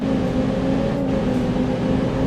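In a video game, a Lamborghini's engine drones low and steady like a heavy truck, a continuous hum with a slight rise and fall and no voices.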